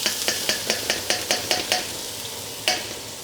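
Grated ginger, garlic and green onion hit hot oil in a pan, a bright steady sizzle punctuated by a run of rhythmic scraping taps, then a final louder clack near the end.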